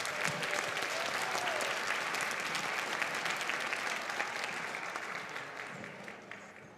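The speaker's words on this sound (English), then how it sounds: "How about another round of applause for our band students?" Dense, steady audience applause at a school winter concert after the band students perform, filling the hall with continuous clapping that tapers off slightly toward the end, with no voices over it.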